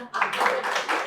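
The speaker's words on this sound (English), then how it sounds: "Give her one round of applause." A small audience at a spiritual satsang gathering gives one short round of applause, a brief burst of close, fairly loud clapping.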